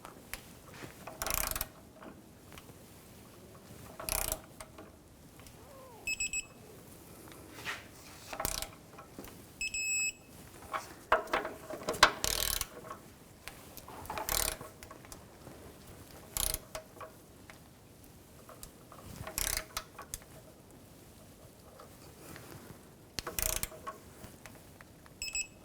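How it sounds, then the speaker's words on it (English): A torque wrench tightens the steering rack bolts on a 2015-2018 GMC Sierra 1500 5.3L V8 to 162 foot-pounds. Crisp ratchet clicks come in repeated short bursts every few seconds, close by, with faint metallic clinks in between. "Now we're going to torque these to 162 foot-pounds."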